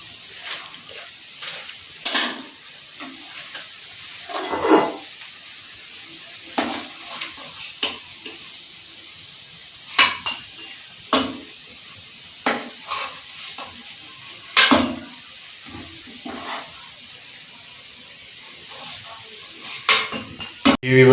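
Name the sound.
gulab jamuns being taken out onto a plate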